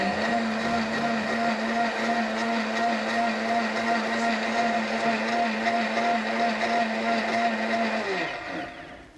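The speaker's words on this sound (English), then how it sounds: "Is that a special bartender blender?" A bartender's blender purees ginger at a busy function: a steady high motor whine with a constant tone that runs for about eight seconds, then winds down and stops.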